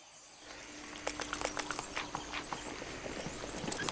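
Horse hooves clip-clop in a steady walking rhythm, close and fairly crisp, with faint background ambience and no speech.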